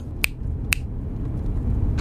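Two crisp finger snaps ring out about half a second apart, with a fainter third snap near the end, over a low background rumble.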